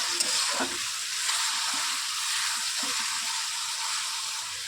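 Capsicum, tomato and green chili being stir-fried for chowmein in a hot pan, giving a steady, close sizzle broken by soft, irregular scraping strokes of the spatula, with no talking.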